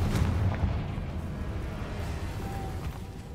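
The Confringo fire spell explodes in the Hogwarts Legacy video game, a single deep booming blast at the start whose rumble fades away over the next few seconds.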